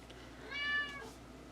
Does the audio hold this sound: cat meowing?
yes